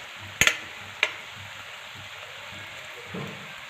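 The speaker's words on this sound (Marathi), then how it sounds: "आता ह्या वड्या आपल्याला अशाच दोन्ही पण अंगाने अशाच तांबूस रंगावरती तळून घ्यायच्या आहेत" Coriander vadi (kothimbir vadi) shallow-frying in hot oil until reddish-brown on both sides: a faint steady sizzle broken by a few sharp crackles and spatters near the start and a soft scrape later, no voices.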